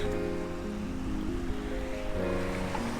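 Sea waves break near the shore, heard from a sailing boat, as a steady, moderately loud wash of surf with no talking.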